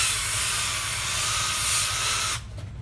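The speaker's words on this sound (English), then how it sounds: "just use your air nozzle to blow off the excess very carefully" An air nozzle blows off excess separator, a steady, close, loud hiss of compressed air that cuts off sharply near the end and leaves only faint background sound.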